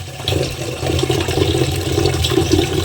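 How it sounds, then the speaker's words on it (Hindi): Tap water runs steadily into a container to water plants on a balcony, a continuous loud rushing and splashing pour with no voices. "पानी डाल दी हूँ मैं पौधों में डालने के लिए।"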